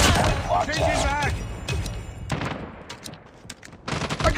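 Gunfire rings out in a Call of Duty Mobile Hardpoint match where shotguns are in use, sharp close bursts and rapid shots cutting between announcer-style voice callouts.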